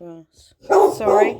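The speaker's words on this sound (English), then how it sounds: "that's the dog and the postman." Dog barking at the postman, a couple of short, fairly close barks, with a person talking just before them.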